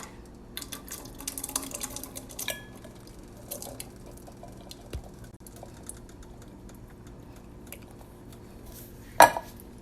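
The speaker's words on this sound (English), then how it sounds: "I'm now adding in my black beans." Black beans go into a pot of rice and peas, bringing sparse clinks and light clatter of cookware and utensils across the stretch, then one sharp, louder clank near the end.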